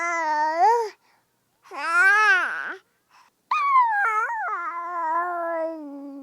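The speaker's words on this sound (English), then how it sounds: "Did you hear the baby cry? Did the gooing and oohing?" A baby cries and coos in a run of wavering, wailing vocal sounds broken by short pauses, close and moderately loud, with no talking over it.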